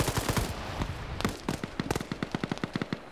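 An RPK machine gun fires in a PvP video game match: a dense, crackling volley, then a run of evenly spaced, punchy shots in quick rhythm, loud and close.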